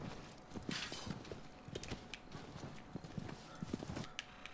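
Horse hooves clip-clop rapidly in the Shadow of the Colossus video game, a steady galloping rhythm close up, with occasional louder hoof strikes over a busy background of game sound.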